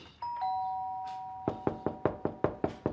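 A doorbell chime sounds, followed by a steady series of eight firm knocks on a home door, close and evenly spaced, with no voices.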